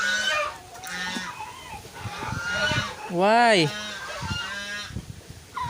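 A baby goose that has been trampled and cannot stand gives a loud, drawn-out honk midway, among softer repeated honks and clucks from fowl nearby, while a person talks over it.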